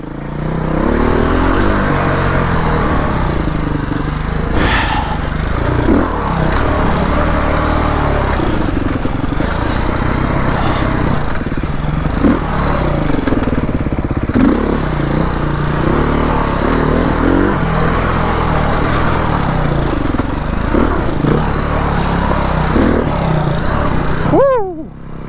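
Dirt bikes, a Yamaha YZ250, KTM 250 XC and Beta 480rr, climb a steep hill, a loud continuous engine roar revving up and down throughout as throttles open and ease off, up close.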